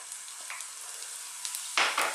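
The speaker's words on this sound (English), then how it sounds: "We're going to start off by dropping in our garlic." Garlic dropped into hot corn oil, frying with a steady, close sizzle and a louder burst of spitting near the end, no voices.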